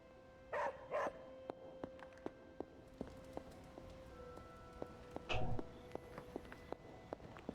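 A dog barks in the video game Marvel's Midnight Suns: two quick close barks, then a lone bark a few seconds later, with soft regular ticking clicks between them at low level.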